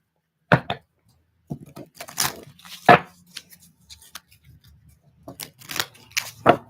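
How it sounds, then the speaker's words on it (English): Stiff tarot cards are shuffled in a few separate bursts, with crisp riffling and snapping sounds between quiet pauses, close by. "These cards are hard to shuffle."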